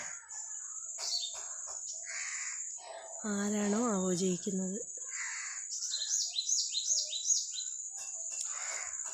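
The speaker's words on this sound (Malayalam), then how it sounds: "ഇവിടെയൊക്കെ കുഞ്ഞു കുഞ്ഞു കിളികളുടെയൊക്കെ കരച്ചിലൊക്കെ നിങ്ങൾക്ക് കേൾക്കാൻ പറ്റുന്നുണ്ടായിരിക്കും" High, quick chirps from small birds sound repeatedly in the background while a person talks and another animal gives a longer tonal call.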